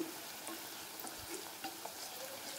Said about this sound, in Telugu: ఇలా ఈ ఉల్లిపాయలు బాగా ఫ్రై అయ్యేంత వరకు